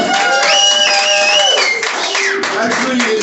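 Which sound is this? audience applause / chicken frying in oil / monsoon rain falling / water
audience applause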